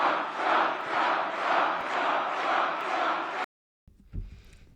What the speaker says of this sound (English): you've got the crowd right there chanting Trump's name like the cult that they are